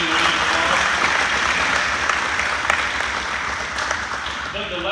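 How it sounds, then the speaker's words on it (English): Audience at a Jackson County agriculture hall of fame event gives a steady round of applause, dense clapping filling the room throughout, with a faint voice underneath. "I take a moment to just give him a round of applause."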